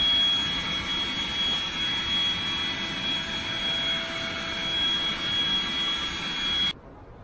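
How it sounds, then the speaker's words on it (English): A small electric pump built into the back of an air bed inflates it at a campsite in New Zealand, making a loud, steady whirring drone with a whine that runs without a break and then cuts off just before the end. "turn on the pump, and off she goes."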